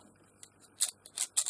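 Scissors snip glassine paper in a few quick, crisp cuts, the last three sharp and close after faint rustling, with no one speaking.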